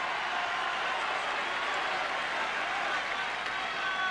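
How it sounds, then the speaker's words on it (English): Wimbledon crowd applauding during a fourth-set men's singles tennis match, a steady dense wash of clapping and crowd noise lasting the whole stretch without pause. "Crowd getting into it in this fourth set."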